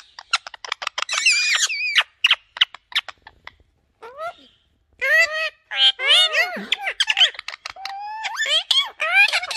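Parrots squawk and chatter in rapid bursts of sharp, shrill calls and whistles, close and loud, with short gaps between outbursts.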